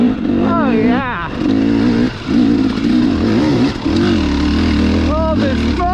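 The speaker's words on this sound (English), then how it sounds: "Oh, this motor. Look at that. You can almost count the RPM. It's still pulling." An RC car's electric motor revs and whines as the car drives up a dry creek bed in Colorado, loud and close, its pitch rising and falling in sweeps, with a voice speaking over it.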